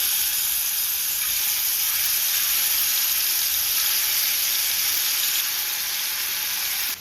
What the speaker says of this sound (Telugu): నూనె వేడెక్కిందండి. ఇప్పుడు మటన్ వేసేసుకుందాం.